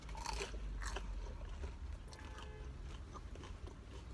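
Crunchy biting and chewing of a cornmeal-crusted bagel close to the microphone, with crisp crackles at the start settling into softer chewing.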